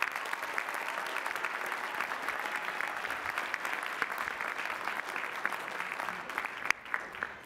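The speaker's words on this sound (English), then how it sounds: "Please recognize the Doctor of Philosophy with our hearty congratulations and applause." Sustained applause from a commencement audience at Lehigh University's spring ceremony, honoring new Doctor of Philosophy graduates; dense, even clapping fills a large hall throughout, easing slightly near the end.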